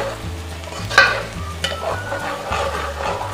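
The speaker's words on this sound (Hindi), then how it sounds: "हम इसमें अपना चिकन ऐड कर लेंगे और इसकी भुनाई कर लेंगे" Chicken with ginger and garlic sizzles in a pan while being stirred and sautéed for a chicken-and-chickpea curry, giving a steady frying hiss with scraping stir strokes and clatter near at hand.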